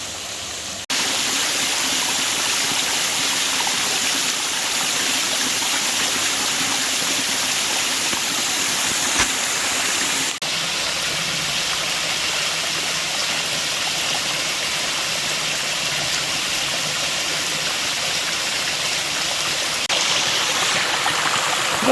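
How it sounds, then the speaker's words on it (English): A waterfall along the Ozark Highlands Trail gives a steady, full rushing roar of falling water, close and constant throughout with no talking. "Oh, there's three waterfalls in here."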